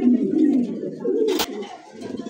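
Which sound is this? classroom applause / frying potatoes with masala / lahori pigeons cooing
lahori pigeons cooing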